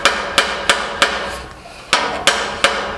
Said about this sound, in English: I should be able to cut this off and just hit it with my hammer.